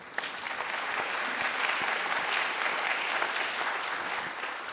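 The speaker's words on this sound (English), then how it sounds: "I think you clapped for us, but we clapped for all of you" Audience applause at an international peace conference, a dense, steady round of clapping from a large room that holds evenly throughout and tapers slightly at the end.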